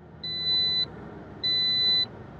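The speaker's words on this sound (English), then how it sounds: "fitting it with an alarm similar to what you'd hear when you don't wear a seatbelt" Vehicle child-reminder alarm, similar to a seatbelt warning, fitted in a daycare van: two steady high electronic beeps, each about half a second long with a gap between, clear and alone.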